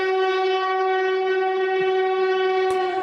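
A train horn sounds a loud, sustained chord that holds steady for about three seconds, with a faint rumble beneath and no voices.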